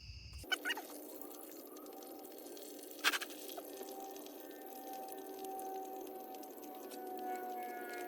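Engine oil drains from a 2013 Ford F350 with the 6.7L diesel, starting abruptly as a steady, close pouring and splashing stream, with a couple of sharper splats along the way.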